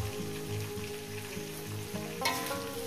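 Drumstick pieces and potatoes fry in hot oil in a pan for a vegetarian poppy seed dish, giving a steady close sizzle throughout with a brief louder crackle midway.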